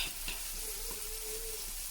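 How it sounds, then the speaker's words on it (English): Close, continuous sizzling of beef sirloin steak frying on a hot tawa, with a soft crackle and no voices. "Keep frying on the tawa another 2-3 minutes."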